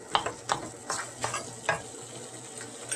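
A spoon repeatedly scrapes and taps through samosa chaat mixture in a pan after garam masala goes in, rhythmic stirring strokes over a soft, faint sizzle.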